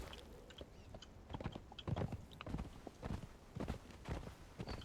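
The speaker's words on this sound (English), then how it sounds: "Let's get on the horse and get right back to the beach." A horse ridden across sand in Conan Exiles gives quiet, rhythmic hoof thuds at a brisk gait, soft and fairly close under faint ambient wind.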